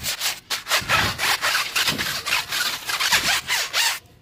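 Flannel cloth scrubbed hard against a car wheel rim, giving rapid rough rubbing strokes in a steady back-and-forth rhythm, close and fairly loud throughout with brief pauses.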